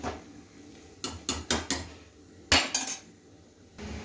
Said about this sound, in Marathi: इकडे छान अशी खाली वर करायची